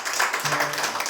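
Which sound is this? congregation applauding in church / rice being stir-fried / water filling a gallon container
congregation applauding in church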